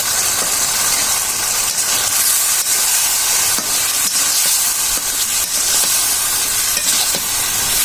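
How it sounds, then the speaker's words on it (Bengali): Green banana and potato pieces fry in a hot pan, giving a loud, even, continuous sizzle close by, with faint scraping clicks of stirring scattered throughout. "এখন আমরা দিয়ে দিব কাঁচা কলা আর হচ্ছে আলু, এগুলো আগে দিয়ে দিচ্ছি। এগুলো একটু কষিয়ে নিব।"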